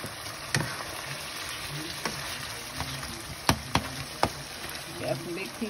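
Italian sausage sizzles steadily in a pan while a spoon chops it, giving several sharp scraping taps against the pan over the constant frying hiss.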